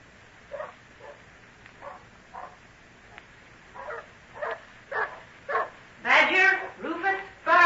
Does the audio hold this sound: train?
no